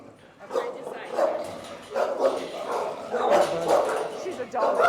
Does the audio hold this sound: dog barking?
yes